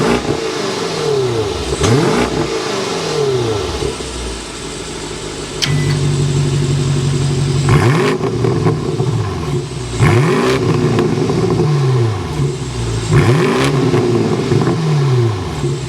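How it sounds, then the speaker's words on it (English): A twin-turbo 2024 BMW Alpina B8 Gran Coupe engine revs repeatedly, rising and falling in pitch over a deep idling rumble, loud and close with a throaty exhaust note. "start up this twin turbo so you can hear that exhaust note"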